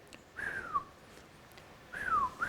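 Two breathy, wavering whistles slide downward in pitch, spaced apart with quiet between them.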